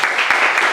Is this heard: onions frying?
no